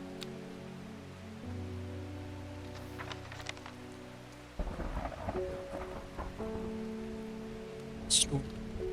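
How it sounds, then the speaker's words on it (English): Thunderstorm with steady rain in the video game Strange Horticulture: a constant hiss of rainfall over low game music, with a deeper rumble of thunder swelling midway and a brief bright crackle near the end. "Storm."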